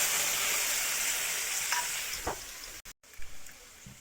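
Spice paste hits hot oil in a pan with a soft, steady sizzle and hiss, interrupted by a few stirring knocks and a brief cut near the end.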